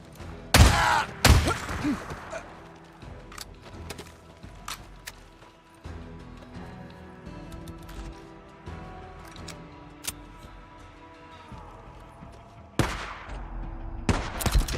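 Gunfire from an auto shotgun and MG45 in Days Gone: loud bursts near the start and again at the end, with scattered single shots and quieter game sounds in between.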